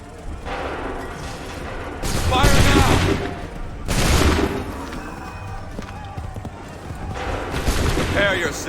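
Musket volleys crack out in the Assassin's Creed III video game, several loud massed bursts of gunfire separated by pauses, with shouted commands and battle noise in between.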